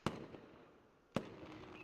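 Two fireworks explosions in the video game Angels with Scaly Wings, each a sharp loud boom about a second apart, followed by a fading crackle with no voices.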